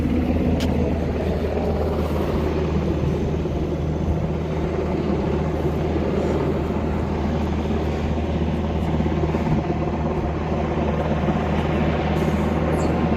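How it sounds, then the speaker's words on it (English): A helicopter drones continuously overhead during a water rescue on the Santa Ana River trail, its rotor thrum steady and moderately loud with a low rumble underneath throughout. "That helicopter above me."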